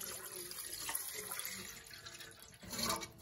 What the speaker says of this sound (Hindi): और हम इसमें पानी डालेंगे।